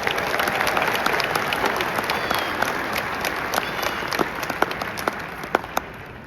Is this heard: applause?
yes